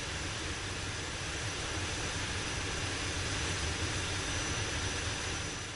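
Concorde jet engines, with the 002 prototype on its flight from Filton to Fairford, giving a loud, continuous broadband roar that holds steady throughout without a break.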